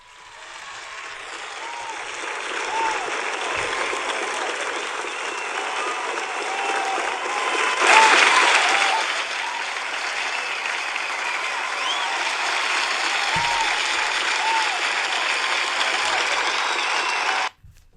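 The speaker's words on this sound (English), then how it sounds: "I think it's only fitting that we give Frank Warren a general round of applause" A general round of applause from an audience, sustained and fairly even for about seventeen seconds, swelling briefly midway before cutting off abruptly near the end.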